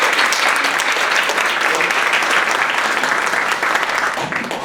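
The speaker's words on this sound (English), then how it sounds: "Let's give Carol a round of applause." An audience at a women's international day event applauds Carol with steady, dense clapping from a sizable crowd, loud and continuous for the whole stretch before easing slightly at the end.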